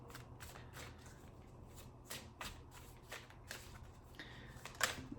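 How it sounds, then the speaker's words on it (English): Tarot cards being laid out and turned over one by one, soft papery slaps and slides repeating at an irregular pace over a steady low hum, close and quiet. "I'm going to lay them all out and turn them over one by one"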